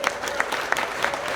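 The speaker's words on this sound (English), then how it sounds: "get a round of applause for Sam" Audience at a brand-launch panel event applauding a panelist, steady dense clapping from a room full of people with a few sharper claps standing out, moderately loud and sustained throughout.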